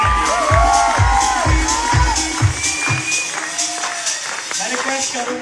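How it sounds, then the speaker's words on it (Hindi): An audience at a stage event bursts into applause and cheering, dense clapping and whoops with rhythmic thumping beats underneath and a voice calling out over the crowd. "जोरदार तालियां"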